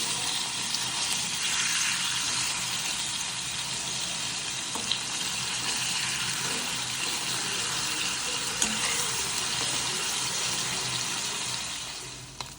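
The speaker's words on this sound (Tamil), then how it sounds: "கருவாடு நல்லா பொறிஞ்சிருச்சு" Dry fish fries steadily in hot oil in a pan, giving a dense, even sizzle that holds close and continuous throughout, with a few faint clicks.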